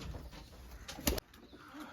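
Soft pigeon cooing under a steady background hiss, with a brief louder burst partway through.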